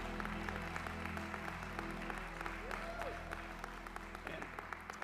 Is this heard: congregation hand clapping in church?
yes